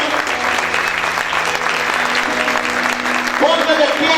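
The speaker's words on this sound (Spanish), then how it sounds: "¿Cuántos pueden aplaudir fuerte al Señor en esta hora?" A church congregation applauds loudly during a service, a thick, sustained roar of clapping over a low held musical tone, with a voice breaking in near the end.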